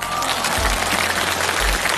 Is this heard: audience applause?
yes